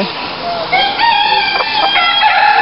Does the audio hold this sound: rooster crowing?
yes